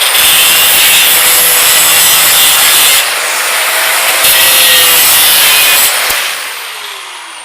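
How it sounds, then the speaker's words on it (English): Weld tacks being cut off a piece on a welding table, a loud, harsh, continuous abrasive cutting noise up close that winds down and fades at the end. "Now we cut off the tacks that held the piece in place."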